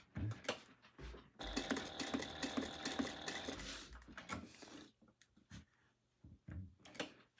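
A sewing machine stitches up the side seam of a crossbody bag in a burst of rapid mechanical whirring, then stops; handling clunks and rustles of fabric follow.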